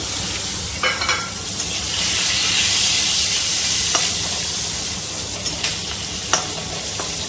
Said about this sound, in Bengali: ফোড়নটা একটু ভাজা ভাজা হয়ে যাক